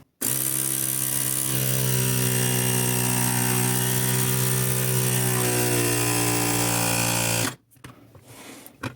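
A cheap VC-027 power bank air compressor runs loud and steady with a harmonic motor whine for about seven seconds, then cuts off abruptly, leaving faint handling noises.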